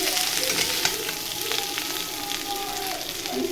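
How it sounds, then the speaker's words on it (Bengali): Spice masala frying in oil for a bhola fish and shapla curry, a loud continuous close sizzle with steady stirring scrapes layered through it, and no talk. "ভালো করে কষিয়ে দেখো বন্ধুরা মশলা ভালো করে কষিয়ে নিয়েছি তেল ছেড়ে দিয়েছে"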